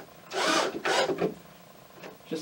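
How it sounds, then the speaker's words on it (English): A conduit clamp is screwed down on an RB10 kit, with two short, close bursts of buzzy, rasping driver noise followed by quieter scraping and a small clunk. "Grab my conduit clamp, screw that down."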